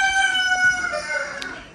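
A rooster crows once at a tea garden, a clear, drawn-out call that trails off toward the end, heard alone with no talking.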